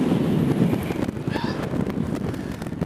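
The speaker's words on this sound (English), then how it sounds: "But my goodness, it's very windy." Loud, gusty wind buffets the microphone on a 721-metre hilltop in the Ochil Hills, with a steady low rumble throughout, and a faint bird call briefly cuts through in the middle.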